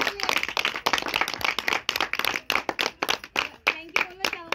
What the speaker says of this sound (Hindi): एक बार जबरदस्त तालियां हो जाए हमारे गुरुओं के लिए